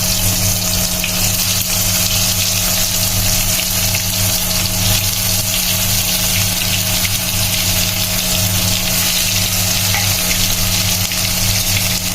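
Beef shami kebabs fry in a pan with a loud, dense, continuous sizzle and crackle of hot oil, steady throughout with a low hum underneath and no talking.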